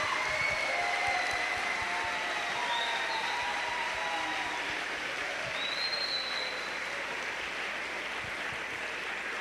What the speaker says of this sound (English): give our presenters a huge round of applause, please